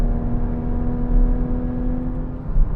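A Porsche Cayman GTS is driven through corners, its engine giving a steady, loud droning hum heard from inside the cabin, rising slightly near the end.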